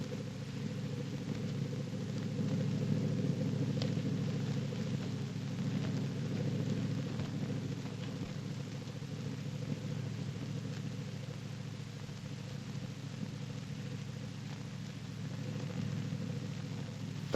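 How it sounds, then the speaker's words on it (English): A boat engine runs off screen in a scene from the film The Passionate Friends, a steady low, droning rumble that holds at an even level throughout with no voices. "the wind is silent, so that we hear the sound of the boat off screen."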